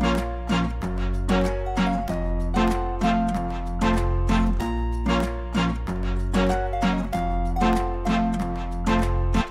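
Latin-style trap loop with Spanish guitar plucks, booming bass and crisp percussion, shakers adding a light rhythmic shuffle in the back half, loud and steady with no talking.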